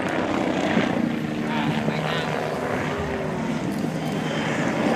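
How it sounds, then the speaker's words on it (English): An MBB Bo 105 helicopter with a rigid rotor flies an aerobatic display, a steady, broad engine and rotor roar holding constant throughout without clear change in distance. "It's just mesmerizing to watch Chuck put the BO-105 through its paces"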